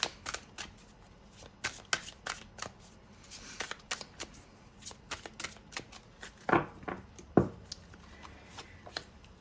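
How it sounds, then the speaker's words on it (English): A deck of magical fairy oracle cards is shuffled nearby in soft, uneven riffles and taps, with a couple of louder thumps toward the end and no speech. "I'm going to pull a couple of oracle cards for you. These are the magical fairy cards."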